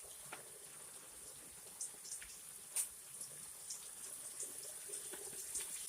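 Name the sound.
water poured into pan with squash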